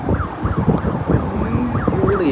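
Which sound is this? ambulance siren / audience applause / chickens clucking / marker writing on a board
ambulance siren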